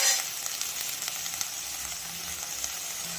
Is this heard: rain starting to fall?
no